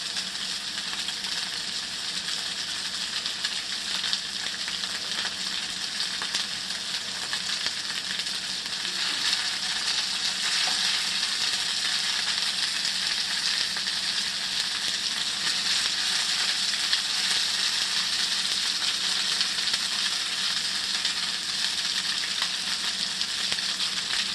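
Kleese dumplings, also called knephla, frying in a pan give off a steady, even sizzle that holds at moderate volume for the whole stretch, with no talking over it.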